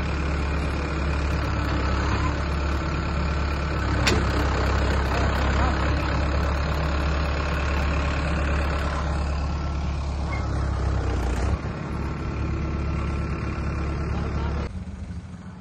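A tractor idles near a field where urad beans are being loaded as rain begins, giving a steady, loud low engine rumble that runs throughout with voices talking over it.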